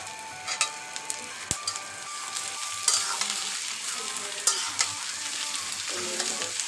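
Bombai chilli pickle with salt and turmeric is stirred in a pan, with a constant soft sizzle beneath repeated scraping clicks and taps of the utensil, all close and fairly quiet.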